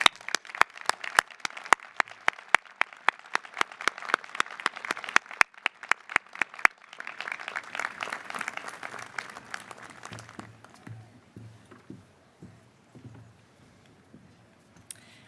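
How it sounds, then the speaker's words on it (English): Faculty and staff applaud new graduates at a college commencement, first with sharp, spaced claps that swell into full, steady crowd applause, then fade into scattered claps, shuffling and low murmur. "Would the members of the faculty and staff join me in a round of applause for our new graduates?"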